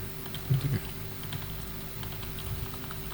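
Computer keyboard keys, including the backspace key, are tapped a few times while editing a Microsoft Word document; the presses are soft, close and brief over a quiet room hum.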